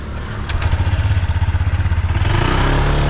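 A motorcycle engine chugs with a rapid, even pulsing beat that builds and swells into a louder rev near the end, close and alone with no voices.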